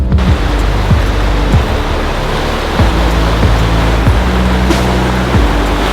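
A Colorado river rushes past close by, a loud, steady broadband roar of flowing water with no pauses or talk.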